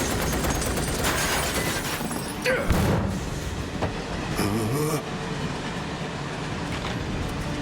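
A train in Final Fantasy VII Remake roars steadily along the rails with a constant rumble, clatter and a few sharp metallic bangs, loud and continuous throughout.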